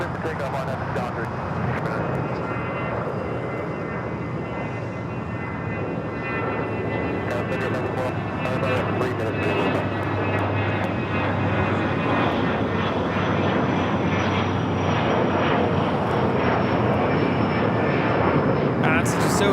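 A Dassault Falcon 50 business jet taking off at LAX, heard as a loud, continuous engine roar that holds steady and swells slightly over about twenty seconds, with people talking underneath.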